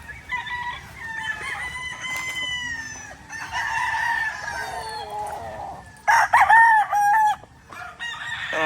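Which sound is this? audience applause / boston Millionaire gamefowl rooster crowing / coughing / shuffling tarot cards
boston Millionaire gamefowl rooster crowing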